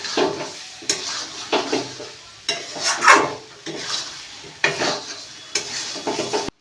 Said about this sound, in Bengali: এবার দিতে হবে ভেজে রাখা আলুগুলো দিয়ে মশলার সাথে ভালো করে মেশাতে হবে এবং আলুগুলোকে মশলার সাথে ভালো করে কষাতে হবে।